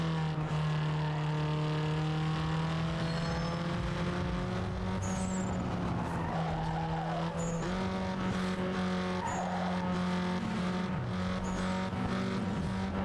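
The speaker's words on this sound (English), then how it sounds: "I like the sound of the engine, leave me alone." Race car engine in Need for Speed Underground 2 on PC, a loud continuous high-revving drone with steady harmonic whine that rises and falls through gear changes, brief tire squeals, no talk.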